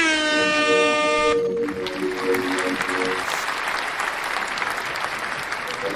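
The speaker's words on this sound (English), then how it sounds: "here's a little air horn and a round of applause for Linnea's daughter, everybody." An air horn blasts in a loud harmonic tone that merges into a swell of applause from a crowd, and the clapping keeps going steadily after the horn cuts off.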